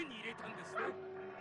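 Cartoon dogs yip and bark briefly in an animated Kazakh-dubbed show, a short burst of yelps mixed in with character speech throughout.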